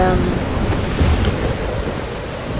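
A video game thunderstorm pours steady, loud rain with a deep rolling rumble of thunder, dense and continuous throughout.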